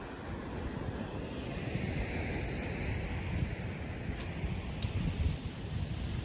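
Rough sea at rocky Cape Muroto in Kochi: a broad, steady wash of surf, heavily mixed with wind buffeting the microphone, moderately loud and continuous, with no voices.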